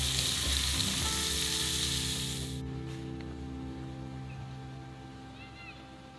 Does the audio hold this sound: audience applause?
no